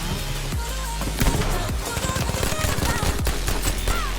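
Gunfire in Battlefield V: dense, rapid bursts of shots and clattering impacts pile up in a loud, chaotic firefight that runs through the whole stretch.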